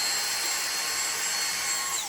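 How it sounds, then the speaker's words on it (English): A vacuum cleaner runs with a steady high-pitched whine and airy hiss while cleaning out the dirty battery tray under the hood of a Subaru Forester, loud and continuous. "I'm gonna use my vacuum cleaner real quick, just to clean the bottom of this tray"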